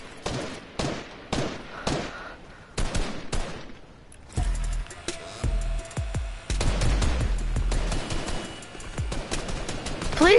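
Rapid bursts of video game gunfire, a volley of shots that starts as separate clustered bursts and gives way to a sustained, heavier barrage with deep booming impacts, loud and close.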